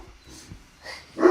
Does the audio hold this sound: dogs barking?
yes